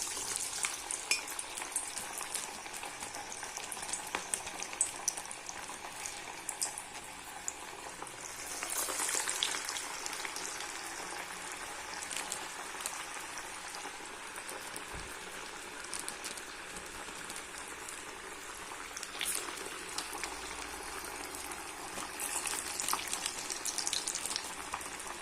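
Dal vada patties for a crispy mixed-lentil kathamba vadai fry in hot oil in a kadai, a steady broadband crackle and hiss with brief louder bursts, close and continuous with no talk.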